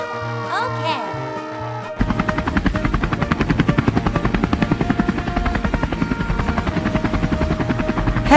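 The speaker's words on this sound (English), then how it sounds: "Helicopter." A helicopter flies close by, its rotor thumping in a fast, steady, loud rhythm that starts abruptly after a short stretch of voices and continues without a break.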